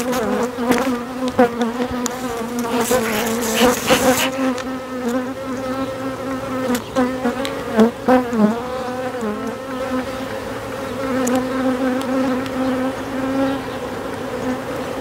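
Honeybees buzz densely around a small mini nucleus hive, a loud close swarm drone with individual bees whining past near the microphone, steady throughout with no talking.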